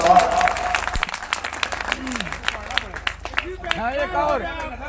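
An audience at a mushaira poetry gathering claps steadily across the whole stretch, with sharp individual hand claps standing out while voices call out and talk over the applause.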